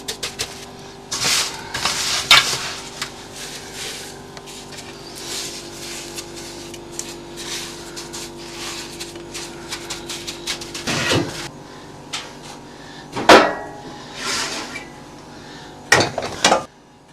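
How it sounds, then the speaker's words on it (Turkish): Coarse salt is pressed and packed over a whole sea bass for a salt-crust bake, giving steady gritty scraping and crunching with a few sharp clinks near the end. No one speaks. "Balığımızın her tarafını tuzla kapladık"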